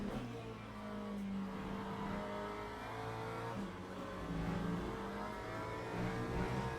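Race car engine from a sim racing game at Paul Ricard, a steady droning mid-pitched hum with layered harmonics that rises and dips slightly in revs, continuous and fairly even in level throughout.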